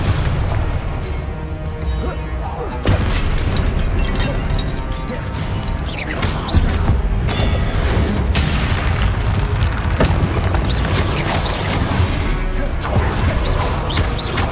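Repeated Confringo blasting-spell explosions in Hogwarts Legacy produce loud booms and crashing bursts over a continuous battle din, with sharp impacts landing every few seconds for about fourteen seconds.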